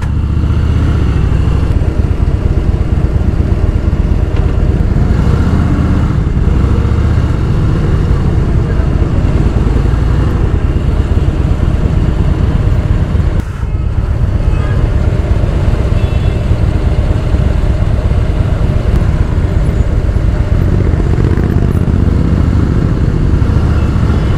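Motorcycle engines rumble loudly and steadily nearby on a road at Bangalore's Kempegowda International Airport, with traffic and wind noise blending in; a brief dip midway before the engines carry on.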